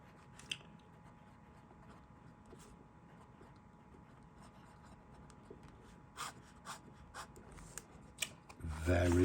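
A Montblanc 224 piston-filler fountain pen with a fine nib scratches faintly across paper in soft, irregular strokes, under a low background hum, ending with louder handling noise.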